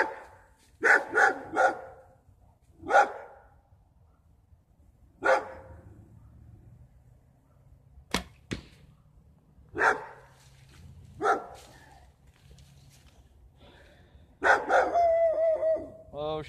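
Several dogs bark in short bursts spread across the clip, some sharp and loud, others farther off, with quiet gaps between.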